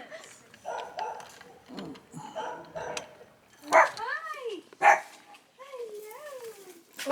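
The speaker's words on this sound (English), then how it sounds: "Little doggos, you want to say hi?" Small dogs bark, yip and whimper on a walking stretch of the Camino de Santiago, with sharp barks and whiny rising cries in the second half and a person talking through the first part.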